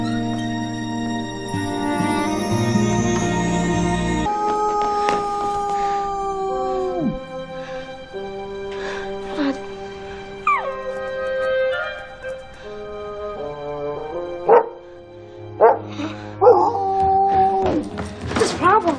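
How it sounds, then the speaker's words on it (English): Dogs howling in a film about a hotel for dogs, long wavering howls and yips from several animals, loud and close, followed by sharper barks and whimpers toward the end. "Stop howling, please."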